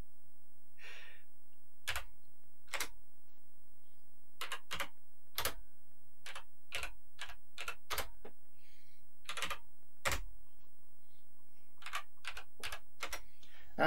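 Single keys are struck one at a time on a Thomson TO9 home computer's French keyboard, sharp close clicks at an irregular hunt-and-peck pace with gaps between strokes, over a faint steady hum.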